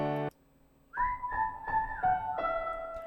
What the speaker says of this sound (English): So I layered it with a whistle.